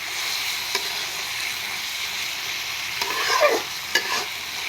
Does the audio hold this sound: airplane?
no